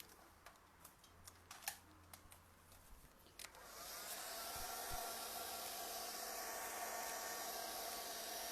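A handheld dryer blows over a painted wild rose double switch plate craft piece. A few faint clicks and taps come first, then a steady, close whirring blast starts and runs to the end.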